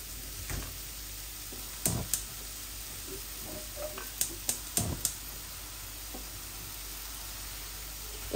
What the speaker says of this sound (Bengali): একটু চিকেনটা ভাজা ভাজা হয়ে যাক